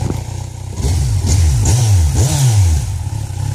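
A Kawasaki Z1000 motorcycle engine, fitted with a Power Commander and showing an F1 trouble code, idles and then revs in several quick rising and falling bursts. It is close and loud, with no talk.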